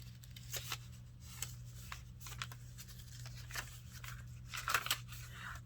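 A small paper notepad from a handmade pink floral mini journal is handled up close, giving soft, quiet rustles and several sharper flicks and crinkles of paper pages, with no voices.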